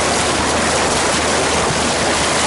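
A motorboat speeding across open sea water, giving a steady loud rush of spray and hull noise with a constant, unbroken roar that fills the whole moment.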